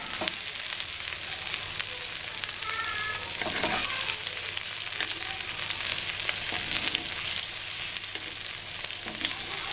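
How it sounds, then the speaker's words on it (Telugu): Fish shallow-frying in a little oil in a pan gives a loud, steady, close sizzle and crackle throughout, with a few faint stirring sounds. "మరో ఫైవ్ మినిట్స్ వీటిని ఫ్రై చేసుకుందాం ఇది షాలో ఫ్రై కనుక ఆయిల్ కూడా ఎక్కువ పడదు మీకు"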